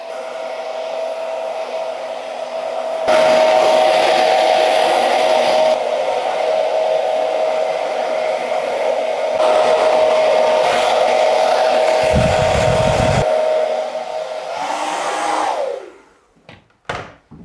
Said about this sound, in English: it's a bit like a dryer hood really, you know, just something that's just going to dry your hair